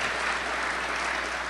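Steady, dense applause from an audience at an annual community development meeting, sustained evenly through the whole stretch without voices standing out.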